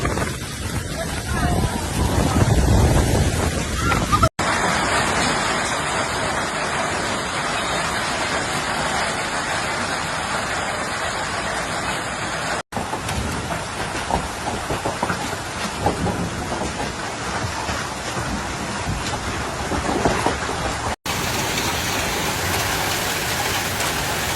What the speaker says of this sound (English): Five-centimetre hailstones and wind gusts of up to 96 kilometres per hour have been recorded